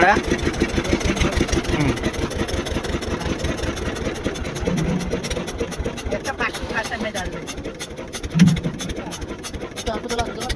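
A large ship's engine runs on the Subarnarekha river with a steady low, rumbling drone throughout, while voices talk over it.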